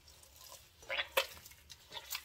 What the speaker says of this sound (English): Now I'm just going to get my hands in here. I'm going to mix up these spices.